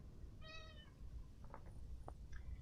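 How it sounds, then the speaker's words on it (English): A house cat lets out one clear, drawn-out meow, followed by a few faint chirping sounds over a low, steady background rumble. "I don't know why my cat's yelling at me."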